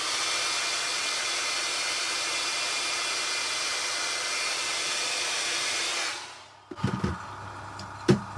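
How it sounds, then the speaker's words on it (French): A hair dryer blows steadily at close range, drying paint, with a loud, even whoosh for about six seconds, then cuts off, leaving a few soft knocks and handling noises. "Je vais mettre un petit coup de sèche-cheveux pour que ça aille plus vite pour vous."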